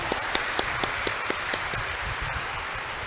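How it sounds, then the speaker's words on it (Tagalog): Church congregation at an Easter Vigil Mass giving the Lord a round of applause, heard as a soft, steady wash of many hands clapping with a few sharper individual claps standing out in an even rhythm, moderately distant and continuous throughout. "Bigyan natin ating mahal na Panginoon sa malakas na palakpak."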